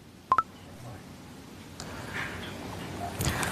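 A telephone being dialed late at night: two short keypad tones in quick succession near the start, followed by faint room noise and a soft rustle toward the end.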